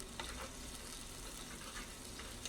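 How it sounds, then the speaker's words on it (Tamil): Ginger garlic paste sautéing in a pan for a mullet fish curry, a steady close sizzle with light stirring throughout, no talking. "நல்லா வதக்கிக்கோங்க இந்த நேரத்தில் வந்து நம்ம இஞ்சி பூண்டு விழுது தட்டி வச்சுருக்கோம் இல்லையா அதையும் போட்டு நல்லா ஒரு பொன்முறவில் வர வர நம்ம வதக்கிக்கலாம்"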